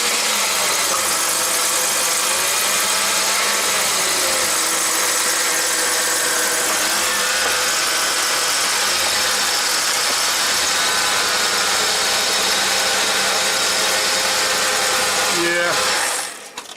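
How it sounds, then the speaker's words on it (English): A 2008 Chevrolet Impala engine runs at a steady idle, loud and close, with a constant broadband rumble and hiss for the whole stretch. It ends with a brief clunk near the finish. "So we're going to start it up and see if it leaks."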